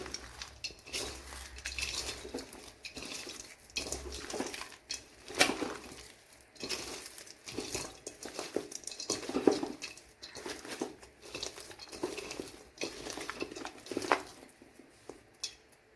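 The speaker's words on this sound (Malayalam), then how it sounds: "ഇതിന് ശേഷം നല്ലപോലെ ഒന്ന് കുഴച്ചെടുക്കണം." Chicken being kneaded by hand with ginger-garlic paste and ghee makes soft, irregular squelching and patting sounds up close, with occasional light clinks of a dish, fairly quiet and without talk.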